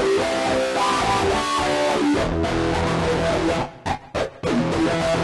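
An abrasive fuzz guitar lead from a multitrack screams over a dense, harsh mix. It sounds loud and saturated, with a few choppy stutters near the end.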